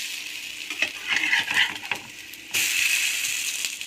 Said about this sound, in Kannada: ಈಗ ನಾವು ಸುತ್ತ ಎಡ್ಜಸ್ನಲ್ಲಿ ಸ್ವಲ್ಪ ಈ ರೀತಿ ಇಟ್ಕೊಂಡು ಫ್ರೈ ಮಾಡ್ಕೊಳ್ಳೋಣ